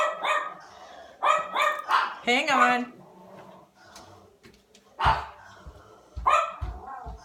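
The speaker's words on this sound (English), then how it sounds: "There go the dogs." Several dogs bark indoors in a household, a burst of four or five quick, high barks followed by a pause and then two more sharp barks, moderately loud, with a person speaking briefly between them.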